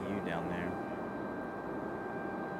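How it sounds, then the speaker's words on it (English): An external auxiliary power unit runs at Raleigh Durham International Airport as a steady, droning hum with a constant whine, continuous and moderately distant, while a person speaks briefly at the start. "Sounds like there's an external APU down there."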